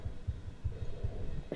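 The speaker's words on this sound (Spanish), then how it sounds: "Escucho un latido en el corazón." A heartbeat in a short film's soundtrack: soft, low double thumps repeat at a steady pace, faint and alone.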